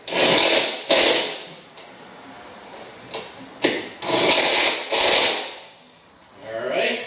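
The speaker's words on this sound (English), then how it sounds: "take our impact hammer, make sure we got it on the screw, put it in here" An impact hammer drives a screw while jacking rails are fitted to a Steeda car, giving several loud, short bursts of rattling mechanical hammering separated by quieter gaps, with a person talking in between.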